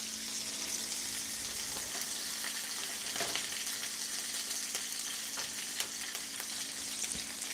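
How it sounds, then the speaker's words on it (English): Steak searing in a hot pan, a steady broadband sizzle and crackle running throughout with occasional louder pops, close and continuous with no talking. "I just want to sear it on both sides"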